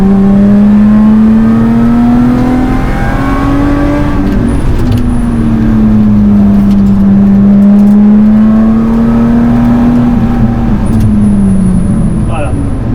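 A Lotus Exige S accelerates on the banked section of the Ledenon circuit during a trackday, its engine note rising and falling loud and close from inside the car, with someone talking in French over it.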